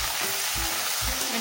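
Tomatoes frying with onions for prawn biryani, a steady bright sizzle with soft low thumps from stirring roughly every half second, close and even, no voices.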